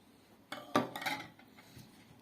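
Ingredients for a skewered meat dish being stirred in a bowl, a short burst of faint clinks and scrapes of a utensil against the dish that dies away within a second or two.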